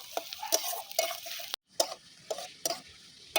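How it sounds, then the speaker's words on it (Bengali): Chopped onions, garlic and green chillies frying in a pan for loitta fish, with a spatula scraping and tapping in a quick irregular rhythm over a soft sizzle, close and fairly quiet. "পেঁয়াজ কুচি দিয়ে দেবো, লঙ্কা কুচি দিয়ে দেবো। ভালো করে লাল লাল করে ভেজে নেব।"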